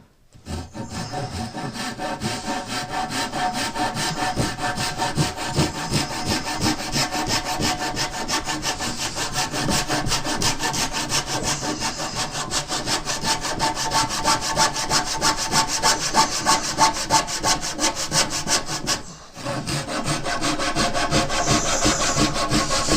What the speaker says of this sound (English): let me cut this board here real quick